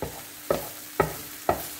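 Shredded cabbage stir-frying in a pan for an egg thoran is pushed to one side with three quick, evenly spaced spatula scrapes over a low, steady sizzle.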